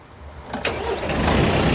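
Tractor with a loader and shuttle transmission starting up: a short cranking burst catches into a steady, rising engine rumble that settles toward idle, close and fairly loud.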